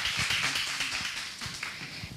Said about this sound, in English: Please give a big round of applause for Khun Tu.